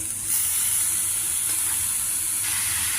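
Cluster beans and grated coconut sizzle steadily in a pan while being stirred and mixed, a continuous bright frying hiss that stays even and fairly loud throughout, with no voices.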